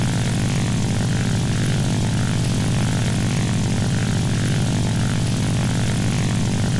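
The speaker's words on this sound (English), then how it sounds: "How's the G50, the plane you're in?" A G50 propeller plane in a combat flight video game drones loudly and steadily, its engine roar constant and close throughout with no voices over it.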